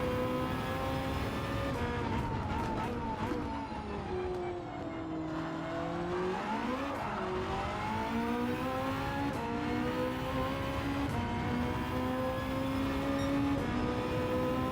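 A car in Gran Turismo 7 holds a steady, continuous transmission whine over its engine drone, with the pitch dipping and rising as speed changes, close and sustained throughout with no talking.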